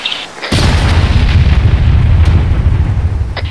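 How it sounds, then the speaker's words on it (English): A loud, deep explosion bursts in the video game ARMA 3 after a brief quiet moment, followed by a sustained rumbling roar with crackling debris. "cool guys, don't look at explosions"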